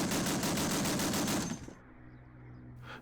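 Rapid, loud video game machine gun fire rattles continuously for about a second and a half, then cuts off to a low aircraft engine drone with game-like effects.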